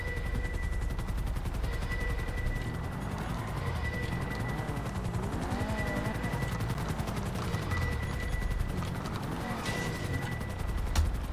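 Rapid bursts of automatic gunfire from a helicopter in GTA 5 Online keep rattling through a constant rotor drone, loud and dense across the whole stretch, with chopper noise and shots overlapping and no voices.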